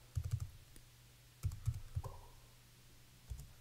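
Short bursts of keystrokes on a computer keyboard, quiet clicking in three small clusters with gaps between, close and faint.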